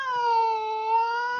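A voice imitates a cat's meow, a single sustained, whining mew lasting over a second with a slight rise near the end, alone without other talk.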